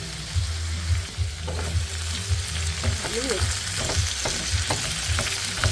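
Vegetables frying in a pan while being stirred, a steady close sizzle broken by scraping and clinking of the utensil against the pan, with no talking.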